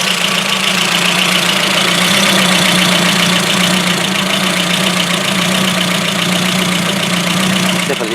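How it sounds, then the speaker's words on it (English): Ford Focus MK1 RS engine idling with a misfire, a loud, steady close-up mechanical drone with a constant rough, knocking texture running for several seconds, no voices. "Definitely see the misfire and hear it."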